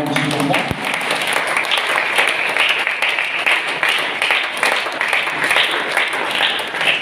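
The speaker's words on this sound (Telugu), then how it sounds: "సంతోషంతో చప్పట్లో వారిని ఆహ్వానించుకుందాం" A church congregation applauds to welcome a priest at a festival Mass, steady dense clapping filling the hall, with a voice speaking over it near the start.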